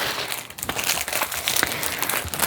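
Plastic packaging crinkles and rustles close up in quick, uneven bursts of crackling, handled continuously without pause.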